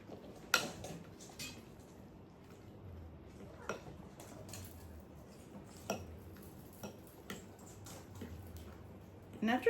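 Diced mango and blueberries folded into muffin batter with a utensil, giving soft scattered clicks and taps against the bowl over a quiet background.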